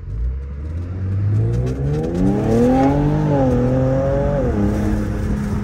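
A tuned 450 whp all-wheel-drive Infiniti Q50S pulls hard under acceleration, its engine note climbing loudly through the gears with a brief dip at each shift, heard from close by without talk.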